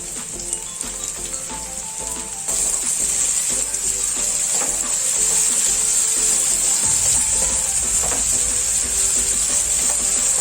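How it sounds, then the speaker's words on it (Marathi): Onion and tomato sauté in oil for moong dal khichdi, a bright, continuous sizzle that swells louder after a couple of seconds, with faint stirring scrapes throughout. "तेलामध्ये कांदा आणि टोमॅटो चांगला आपल्याला परतवून घ्यायचा आहे"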